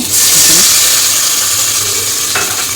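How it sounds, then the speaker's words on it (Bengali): Water is poured into a hot pan of frying onion and oil for a bottle gourd and prawn curry, bringing a loud rushing sizzle and steam hiss that settles slightly, with a brief clink. "আমি এখন পানি দিয়ে দিচ্ছি"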